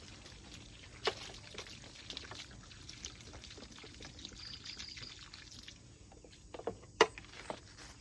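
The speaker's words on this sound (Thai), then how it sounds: "มาหาต้นมะฮุงนี่ราดต้นมะฮุงกันจ้า" Liquid fertilizer is poured from a container onto the base of a papaya tree, a soft, continuous trickle heard close up, broken by a few faint knocks and splashes, with no talking.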